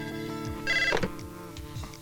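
An indoor telephone rings in short repeated bursts, one louder trill standing out in the middle, with a faint musical background underneath.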